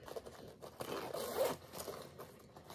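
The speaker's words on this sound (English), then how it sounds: "There's another zipper pocket." A zipper on a bag pocket is pulled open, a soft close scraping run that swells midway and then fades, fairly quiet.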